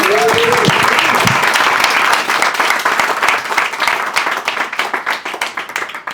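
Applause from the crowd at a City Council NY-25 campaign fundraiser for Shekar, a loud dense burst of many hands clapping that starts strong and gradually thins, with voices faintly under it.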